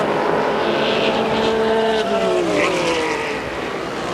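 Trans Am race cars, an Oldsmobile and a Beretta, roaring past at Sears Point, engines howling loudly with pitch sweeping down as they pass, continuous and near.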